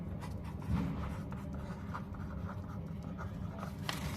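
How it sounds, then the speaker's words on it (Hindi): Pen writing "To Drawings" in a partners' capital account, faint quick scratching strokes in a quiet room, one slightly louder stroke early on. "यहाँ पर टू ड्राइंग लिखेंगे"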